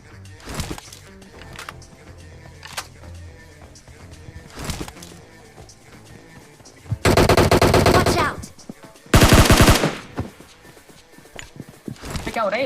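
Automatic gunfire in a mobile battle-royale shooter during an apartment rush, with scattered single shots and two loud sustained machine-gun bursts standing out, mixed with game footstep sounds and occasional talk.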